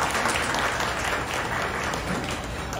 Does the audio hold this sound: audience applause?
yes